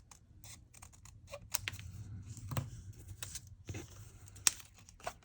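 Scissors trim paper for a journaling craft with quiet, close snips and crinkles, a few sharp cuts standing out against soft rustling and handling noise.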